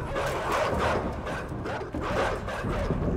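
Dogs barking in the video game INSIDE, a steady run of close, loud yaps and woofs, several animals at once, carrying through the whole stretch.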